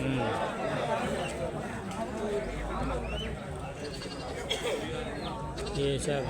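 Sheep bleat repeatedly at a goat and sheep farm, mixed with other livestock calls and people chattering nearby throughout.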